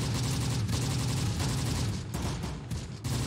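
Dense gunfire from the World War II video game Close Combat: The Bloody First in the Tine Valley, with overlapping rapid shots and machine-gun bursts forming a loud, continuous fusillade throughout.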